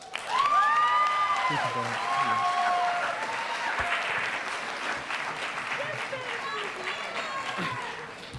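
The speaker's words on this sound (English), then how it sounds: "Please give our graduates a round of applause" Audience applause for graduates at a Kente donning ceremony, loud sustained clapping from a large crowd with some cheering, while a voice speaks briefly at the start.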